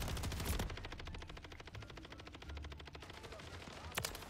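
Kastov LSW light machine gun from Modern Warfare 3 firing one long sustained burst of rapid, evenly spaced shots, loud and close, with a couple of sharper single reports around it.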